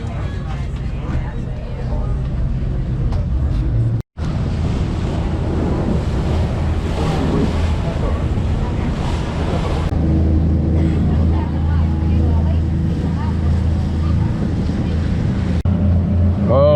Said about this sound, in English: 5 to 7 foot swells here. This is a really choppy ride here.